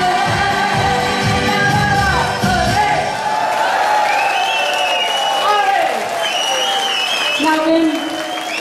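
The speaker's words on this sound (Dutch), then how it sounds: "Applaus, dames en heren" Sustained applause from a live audience at a stage performance, continuous and full for the whole stretch, with whoops and shouts scattered through the clapping.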